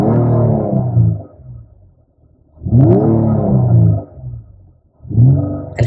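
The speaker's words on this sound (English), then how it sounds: "And what you're hearing is the growl from the V6 engine." Nissan Maxima SR's V6 engine revved while parked, three separate rising growls with short quiet gaps between, loud and close.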